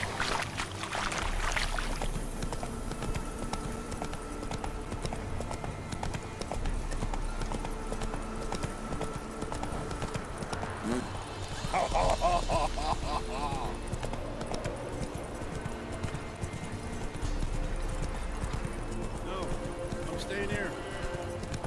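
Roach the horse's hooves clopping in The Witcher 3, a steady rhythmic trot under ambient game sound and voices, running continuously and moderately loud.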